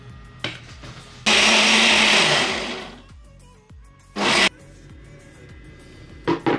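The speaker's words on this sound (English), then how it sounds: "this leftover yogurt, this strawberry, and bananas using my ninja blender" A Ninja blender whirs loudly through yogurt, strawberries and bananas in a roughly two-second burst, then a shorter pulse and a brief final blip, with quiet clatter between.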